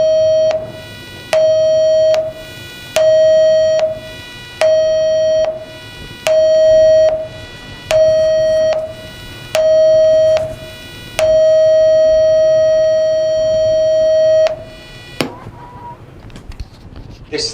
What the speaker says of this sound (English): The signal you have just heard is the general emergency signal.